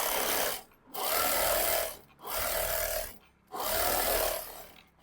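A sewing machine stitches along the folded edge of a lined sleeve border, running in three steady bursts with short pauses between them, its whirring hum close and loud with no talking.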